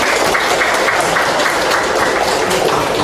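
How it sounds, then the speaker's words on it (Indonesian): Students in an Indonesian history classroom clap together for a classmate, a dense, even patter of hands that holds steady for a few seconds at close range. "masih ingat, tepuk tangan untuk Dani."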